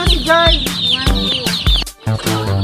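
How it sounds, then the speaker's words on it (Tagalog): Chickens cluck and squawk close by on a farm at an agricultural college, repeated agitated calls overlapping in quick bursts, with a brief pause near the end before the noisy clucking resumes. "Nalulula na po ang mga manok."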